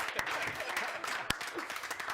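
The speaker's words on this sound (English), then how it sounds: "So they need a round of applause, absolutely." Audience at a students' union leadership election results show applauding the event staff; a brief, steady patter of clapping with a few sharper claps standing out.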